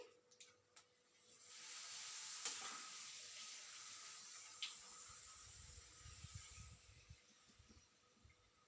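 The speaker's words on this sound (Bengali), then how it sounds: "দেখো পাঁপড়টা ভেজে নিচ্ছি" Papad frying in very hot oil in a kadai gives a steady, moderately loud hiss and sizzle that starts about a second in and continues alone, with a few faint clinks.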